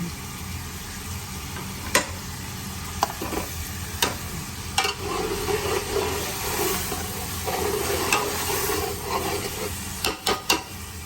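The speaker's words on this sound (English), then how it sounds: "we're going to chuck the lamb in." Lamb shanks go into a hot cooking pot and set off a soft steady sizzle and hiss, with a few scattered clunks and knocks as the meat lands and shifts against the pot.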